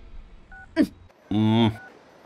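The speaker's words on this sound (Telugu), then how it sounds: "ఇదిగో లాయర్ ఫోన్ చేస్తున్నాడు" A phone makes brief electronic call tones, a short dial-tone burst followed by a longer steady buzzing tone, close and clear amid faint room noise.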